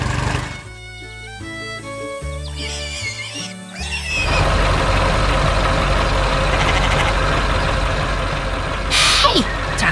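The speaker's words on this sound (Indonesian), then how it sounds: "truk kuning sedang membawa kayu di taman yang hijau dan penuh warna" A cartoon yellow truck carrying wood through a green park, with a rumbling engine, a hiss like an air brake and bright animated sound effects, loud and steady under a playful musical start.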